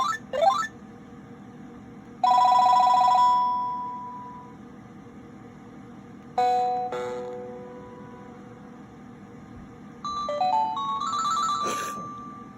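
A Panasonic KX-TGFA30C cordless landline phone, with a KX-TGFM350 base, plays a melodic electronic ringtone: bright synthesized note phrases in bursts separated by pauses, loud and close over faint background hum, with no talking.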